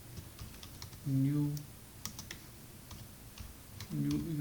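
Quick, light keystrokes on a computer keyboard come in short bursts while someone speaks in brief phrases, entering a city name and data into Java code.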